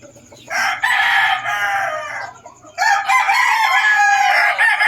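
Pet chickens with roosters crowing nearby, two long loud crows in succession with a brief gap between, no talking.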